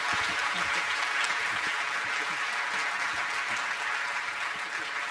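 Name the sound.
applause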